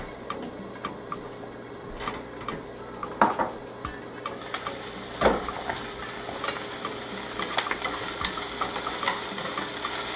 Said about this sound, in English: Let this saute for a little bit